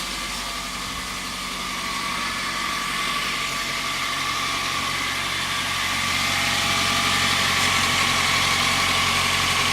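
A high-mileage car engine with 253,000 miles idles steadily with a constant low rumble and hum, close and unbroken, with no knocking and no voices.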